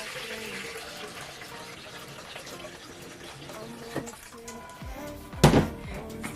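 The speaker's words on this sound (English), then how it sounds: "Fill that up with some water." Running tap water pours steadily into a pot, with a couple of hollow metallic clunks near the end.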